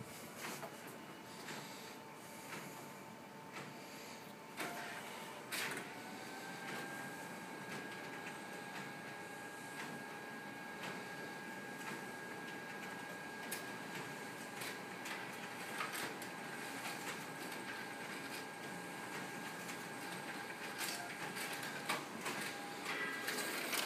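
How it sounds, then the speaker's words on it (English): Sharp 2300 colour copier running colour copies, a steady mechanical whir with a sustained motor tone, sliding and rubbing paper-feed sounds and occasional clicks, moderately loud and continuous throughout. "We're going to take and run some color copies to see what the color quality is like on this machine."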